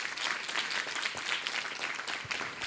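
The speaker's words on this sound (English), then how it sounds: "Please give them all a big round of applause." Audience applause for volunteers of a Vedic cultural center at a Vyasa Puja celebration, a dense steady wash of many hands clapping that fills the whole stretch at moderate loudness with no voices over it.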